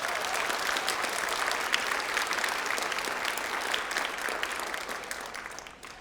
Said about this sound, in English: that's another round of applause for her